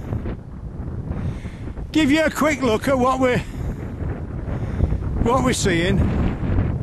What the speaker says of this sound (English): Like I say, it's a bit windy today